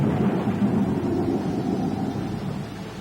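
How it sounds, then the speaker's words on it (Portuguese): Thunder from an approaching storm over open countryside rolls as a continuous deep rumble, fairly loud and sustained throughout, with no voices. "Nem mesmo a tempestade que se aproximava."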